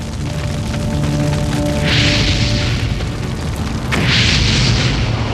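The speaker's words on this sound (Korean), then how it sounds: "Door open. 객실로 갑자기 유입된 산소로 인해 다시 불이 붙게 된다." A backdraft fire explosion erupts inside a ship cabin after the door is opened, with two loud whooshing bursts of flame over a constant roaring fire rumble.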